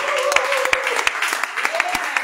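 A church congregation applauds at a prophetic worship service. The clapping is steady and fairly quick, with a sustained singing or voice tone running underneath.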